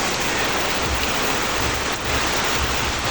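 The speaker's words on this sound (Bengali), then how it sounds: "এখানে বৃষ্টি অন্যরকম একটা জিনিস" Steady rain pours down in a village, a dense even hiss of drops on surfaces filling the whole stretch with no talk over it.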